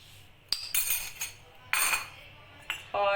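Strawberries are dropped into a blender jar in a few quick batches, giving three bright clinking, rattling bursts against the container, close and moderately loud with quiet gaps between.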